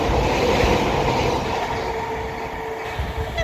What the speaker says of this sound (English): Now passing through is going to be another London North Western Railway class 730